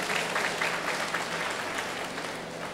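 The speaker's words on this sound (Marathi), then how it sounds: "सर्व सभागृहाला विनंती करतो की देवेंद्रसाठी मोठ्या प्रमाणात टाळ्या द्या" An auditorium crowd claps at a school event, dense, sustained applause that stays loud and even throughout with no talk over it.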